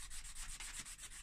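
Wet and dry sandpaper scrubbing a Nissan Almera N16 wheel trim, a steady close rasping rub repeating in quick back-and-forth strokes, alone without talk.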